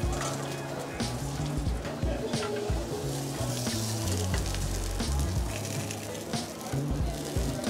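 Octopus chars in a hot pan with a loud, steady sizzle and crackle, close up, while a person talks over the frying.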